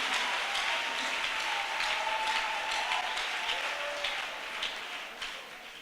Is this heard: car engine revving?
no